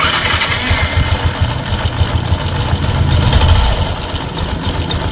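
A second-hand motorcycle with a modified muffler runs loudly close by, its engine chugging with a rough rhythmic exhaust note that swells slightly before easing off.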